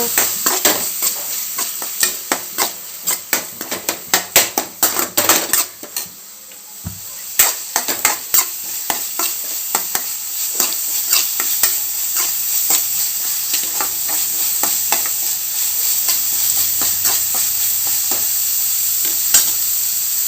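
Chopped tomatoes sizzle and hiss in a pan for a Sunday liver gravy, with a spoon scraping and stirring in quick irregular strokes, fairly close and steady under a constant frying hiss, with no talking.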